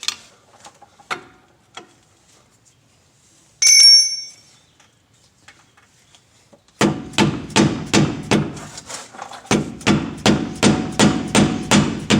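Hammer striking a flathead screwdriver to pry at a Dodge Ram front brake caliper: sparse light taps and a metallic ring early, then a run of about a dozen loud, evenly spaced metallic blows, close up with no talk.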